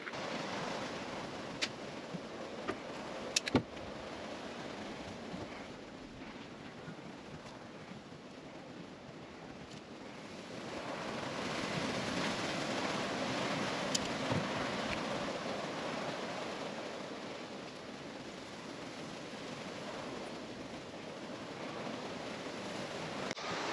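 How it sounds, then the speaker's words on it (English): Wind gusting outdoors at a workshop where a Unimog camper is being built, a steady broad rush that swells louder in the second half, with a few brief knocks near the start. "Sorry, it's a little bit windy."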